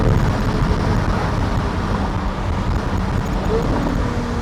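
A Lamborghini engine pulls hard in second gear, a loud, steady, broadband roar with road and wind noise blended in, holding constant through the whole stretch.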